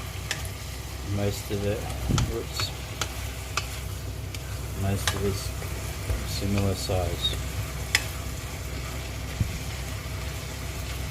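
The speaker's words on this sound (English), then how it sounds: "hear the sizzling, so you've got to keep stirring it" Minced meat sizzling steadily in a frying pan while being stirred, with scraping and clinks of the utensil against the pan over a constant frying hiss. A person talks briefly over the cooking.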